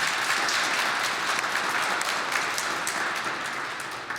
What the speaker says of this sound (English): Could you please join me in a huge round of applause for Mr. Ramsey?